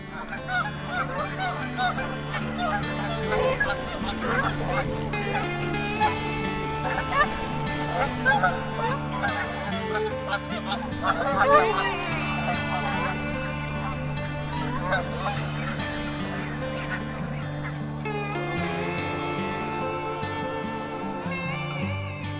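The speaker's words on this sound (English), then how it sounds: "the geese are definitely making some noise over this hill" Many geese honk over and over in a noisy, overlapping chorus beyond a hill on Wisconsin hunting land, moderately distant, with faint voices now and then.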